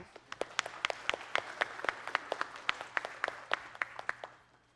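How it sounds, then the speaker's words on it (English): A small audience claps for a classic computer demonstration, each hand clap sharp and distinct, loose and uneven in rhythm, moderately close and fairly quiet, with no voices over it. "Let's give the classic computer a big round of applause."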